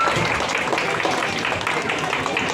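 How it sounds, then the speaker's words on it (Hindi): Sustained applause from an audience at a Republic Day children's programme in a housing society in Bandra East, Mumbai, a steady dense wash of clapping with crowd noise, continuous and fairly loud for the whole stretch. "हम जोरदार तालियां हो जाए इधर बच्चों के लिए"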